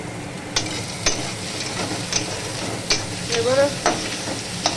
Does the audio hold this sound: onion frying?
yes